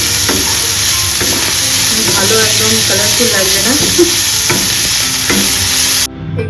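Capsicum and carrot frying in a wok with garlic and onion, a steady loud sizzle with scraping stirs throughout, someone talking over it before the sizzle drops away near the end.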